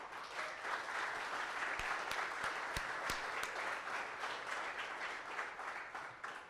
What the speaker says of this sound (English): let's get a round of applause for all the teams